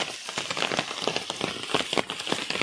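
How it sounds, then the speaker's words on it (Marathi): Continuous rain pours steadily on a rural path toward farm fields, a dense hiss of drops pattering on surfaces with no pauses, fairly close and loud. "सध्या पाऊस पण आज काल रात्रीपासून एक कंटिन्यू पाऊस चालू आहे कंटिन्यू."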